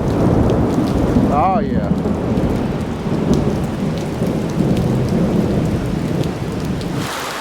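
Rain falls heavily and steadily during a summer storm at a farm, with a combine parked outside and deep rolls of thunder mixed into the downpour. Someone speaks briefly over the roar.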